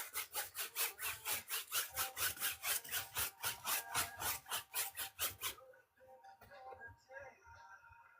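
A brush scrubs oil paint onto canvas in fast, rhythmic back-and-forth strokes, loud and close, about twenty rasping passes before stopping, followed by quieter shuffling and faint background sound.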